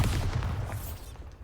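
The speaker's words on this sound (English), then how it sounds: "the explosion on Bombarda feels a bit underwhelming without the trade journal" A Bombarda spell explosion in Hogwarts Legacy gives a dense, rumbling blast that fills the whole moment, a sustained boom with crackling debris tapering off over about a second and a half.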